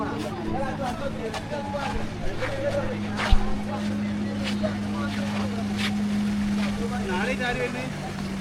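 A motorboat engine drones steadily throughout on the waters at Kavvai, Kannur, mixed with wind and water noise, with a brief knock partway through.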